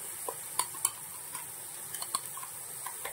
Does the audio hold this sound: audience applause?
no